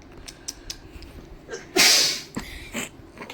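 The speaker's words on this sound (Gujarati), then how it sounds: "છીંકે પાછી મોટી હોય એવું હોય." A child suffering from a cold gives one loud, nearby sneeze midway, surrounded by faint clicks and creaks in a quiet room.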